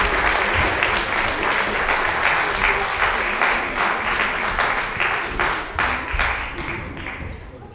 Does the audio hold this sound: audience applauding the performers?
yes